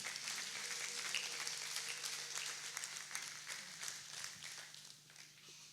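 A church congregation at a New Year's Eve prayer night claps in a faint, distant, continuous patter that fades slightly toward the end.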